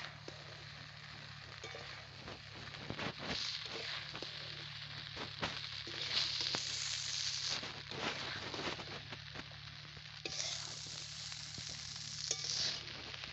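Flattened rice (chire) tossed in salt and sugar being stirred through curry leaves and mustard seeds in a pan, a steady close sizzle with repeated scraping strokes of the spatula and no talking.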